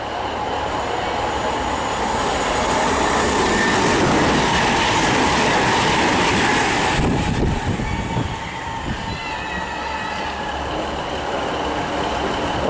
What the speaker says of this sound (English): passing through now is a Virgin train service to Chester from London Euston